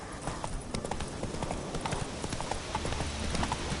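Roach, a horse in a video game, gallops with rapid, rhythmic clip-clopping hooves at moderate volume, a continuous quick beat with no pauses.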